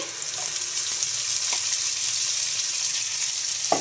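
Ground coconut chutney hits a hot tempering in the pan and sizzles in a steady, close crackle, with a few faint clinks toward the end.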